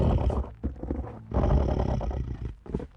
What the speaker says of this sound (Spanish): escuché un rugido pesado por toda el área